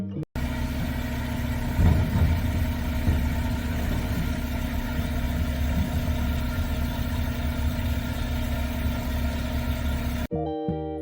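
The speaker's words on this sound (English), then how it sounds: "Garbage truck." A garbage truck engine runs steadily at idle, a heavy low rumble with a constant drone that holds near and loud for about ten seconds before cutting off abruptly.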